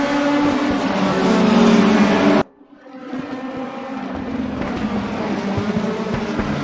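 Race car engines in RaceRoom at Brands Hatch Indy, a loud sustained roar that cuts out abruptly, then resumes as a steady revving drone.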